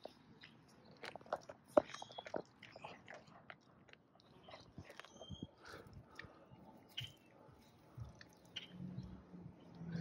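A dog chews and tears at a whole raw rabbit, with wet squishing bites, crunches of bone and irregular smacking chews, close and moderately loud, with a few faint background murmurs.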